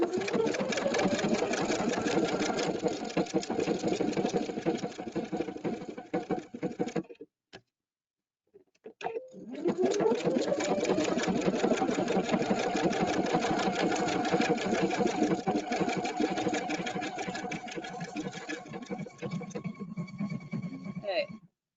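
A Husqvarna Epic 2 sewing machine stitches a pictogram into fabric, its needle running with a fast steady mechanical whir close up, halting briefly midway before resuming, with a voice faintly present.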